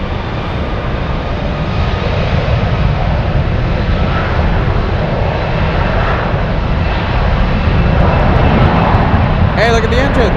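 Jet engines of an Airbus A340-300 with Rolls-Royce Trent 700 engines spool up at Frankfurt airport, a loud, steady roar filling the whole clip with faint voices under it.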